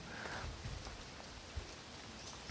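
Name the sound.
light rain falling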